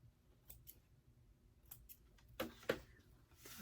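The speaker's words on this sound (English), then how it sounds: "Trim my threads." Scissors snipping loose threads off sewn fabric, a few quiet scattered clicks then two sharper close cuts near the end, in an otherwise still room.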